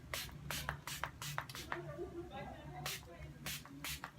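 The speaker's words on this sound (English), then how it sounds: "I'm just going to continue spraying more and more and more" A series of short, sharp hissing sprays from a spray bottle of water and apple cider vinegar onto natural hair, repeated in quick bursts, close by and fairly quiet over a low hum.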